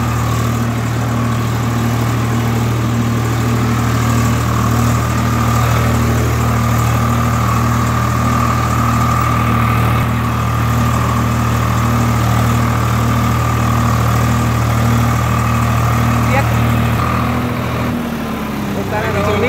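A Swraj 744 tractor engine idles steadily in a damp field, a loud close continuous throbbing drone that holds even throughout and shifts slightly near the end.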